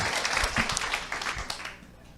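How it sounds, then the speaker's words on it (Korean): Audience applause at a seminar for a sales qualification program, with dense clapping across the room that fades toward the end. "다시 한번 박수 부탁드리겠습니다"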